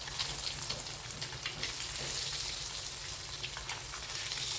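Halved boiled eggs fry in oil with a faint, continuous crackling sizzle and a soft low hum, plus one small tap partway through.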